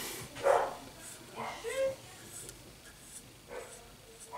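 Dog barking outdoors, a few separate yaps and barks at middling distance, faint beneath a voice talking indoors.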